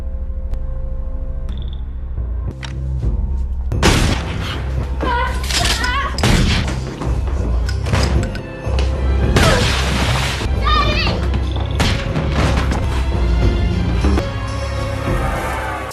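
Loud, close shotgun blasts crack out in a film scene, several booming shots in quick succession amid crashes and shouting voices over a low rumbling score.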